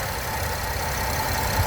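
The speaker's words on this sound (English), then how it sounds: "with the motor running" Steady, even idle of a 2014 Porsche Panamera engine, a smooth continuous low hum running without change from start to finish, fairly close and alone with no voices.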